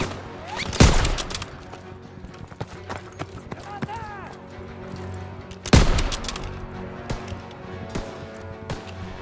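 Gunfire from the video game Call of Duty: WW2 on Xbox One, with two loud sharp bursts of shots several seconds apart among scattered smaller cracks and game sounds, and a voice talking over it.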